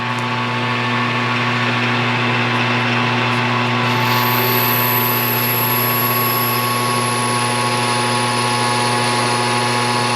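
A mini lathe turning at 1,000 RPM while cutting a gear blank, its steady motor whine and strong tonal hum running loud and continuous, with a high-pitched tone entering partway through.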